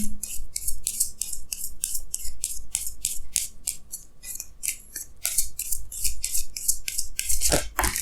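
Tarot cards are shuffled and drawn, giving a rapid run of crisp papery swipes and flicks, close and fairly loud, in an even rhythm with a final louder shuffle at the end.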